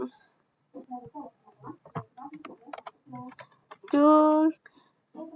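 Short clicks from typing on a computer keyboard during a Cisco CCNA networking lesson. A few quick keystrokes land in a loose cluster, mixed in with someone talking and a brief tonal, voice-like sound.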